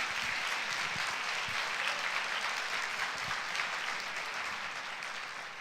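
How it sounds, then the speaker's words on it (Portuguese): Church congregation applauding at a Sunday service, a dense, steady wash of clapping from many hands that carries evenly throughout and tapers slightly at the end. "Dá um aplauso ao Senhor Jesus."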